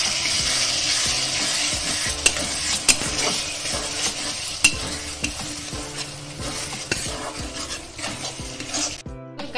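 Spice masala cooks in oil over a medium flame, a loud continuous sizzle with frequent spatula scrapes and sharp taps against the pan, ending in a brief clattering burst, no voices.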